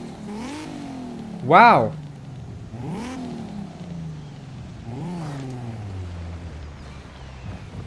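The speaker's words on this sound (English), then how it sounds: "It's got a V6 twin turbo. Damn, it sounds really good." A 1994 V6 twin-turbo car in Forza Horizon 5 revs in several rising sweeps, each climbing then falling back, loud and close, with a brief exclamation from a voice over one pull.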